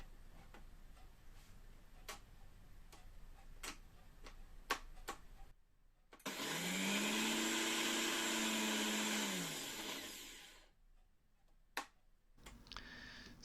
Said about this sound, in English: the blender is losing power whenever there's a movement or vibration